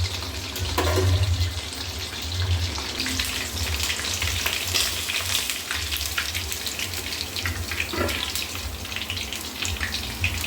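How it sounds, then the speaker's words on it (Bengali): Chicken fingers frying in oil, a loud continuous crackling sizzle close by, with occasional clatter of the pan and utensil and no voices. "এইভাবে আমি সবগুলো ভেজে নিব"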